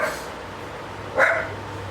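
A dog barks once indoors, a single short, fairly clear woof near the end, otherwise quiet room hum.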